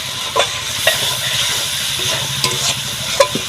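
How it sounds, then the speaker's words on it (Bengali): Spices for a fish curry sauté in a pan with a loud, close, steady sizzle. A spoon stirs through them, giving sharp intermittent scrapes and clacks every half second or so. "এবার আমি ভালোভাবে কষিয়ে নেব।"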